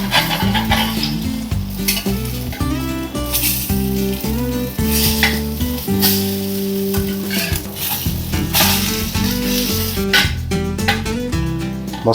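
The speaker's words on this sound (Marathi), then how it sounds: "दोन्ही बाजूने खरपूस फ्राय करून घ्यायचा" An egg-coated breakfast roll fries crisp in a pan, a loud continuous sizzle with occasional stirring and scraping sounds, heard with music playing over it.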